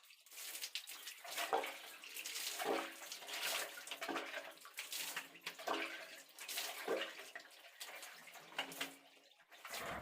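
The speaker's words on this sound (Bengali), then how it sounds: "তো গায়ে জলটা ঢেলে ফেললাম চানটা প্রায় হয়ে গেল" Water is poured over the body during a bath, splashing in repeated uneven pours with a steady wash of falling water between them, close and fairly loud, with no talking.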